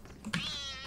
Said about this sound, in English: Wait, where's the cat?